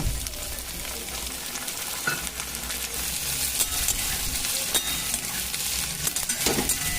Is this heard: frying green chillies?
yes